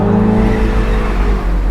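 Mini with an open roof accelerating hard toward its 6,500 RPM red line, a loud steady engine drone and rising rev heard from inside the car, with no talk over it.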